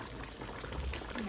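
Water poured into a pot of Algerian chicken stew in red sauce, a steady, fairly quiet splashing and bubbling rush that continues evenly throughout.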